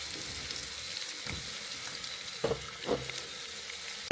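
Onion, potatoes and chickpeas frying in a pan make a soft, steady sizzle, broken by a few louder stirring scrapes and clunks toward the end, with no one talking.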